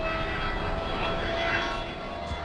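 A fully electric airplane passes with a soft, steady, fan-like whirr and broad airy wash, moderately loud and unchanging for the whole stretch.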